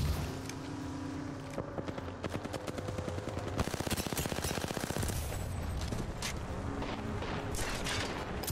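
Dense automatic gunfire from Apex Legends, rapid bursts and overlapping shots firing continuously throughout at close range, loud and sustained, with a few brief shouted callouts mixed in.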